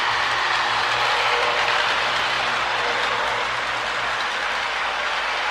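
A Marx E7 Arizona Eastern Black Widow toy train runs steadily on model track, a continuous close whirring rumble of its motor and wheels holding at an even level throughout.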